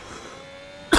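A single sharp cough bursts out near the end of a short stretch of quiet room tone, close and loud, from someone commentating a racing game.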